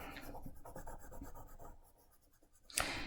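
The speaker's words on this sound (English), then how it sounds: "go around and color the edges in a little bit" Crayon or colored pencil rubs back and forth on paper in a close, quiet run of rhythmic scratchy strokes, ending with a sharper louder scrape.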